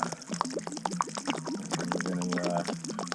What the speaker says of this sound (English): we'll start draining the water now